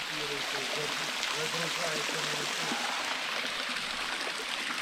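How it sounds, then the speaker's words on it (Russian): Water pouring down a waterfall in a Crimean gorge, a continuous broad rushing roar close by, with faint voices murmuring underneath early on. "здесь там видно, как там вода падает"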